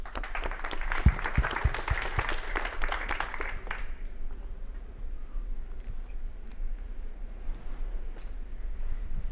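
A conference audience at an Israeli energy tech event applauds as the CEO of Antenna Group enters, a dense burst of clapping for about four seconds that then stops abruptly, leaving quiet room tone and faint shuffling.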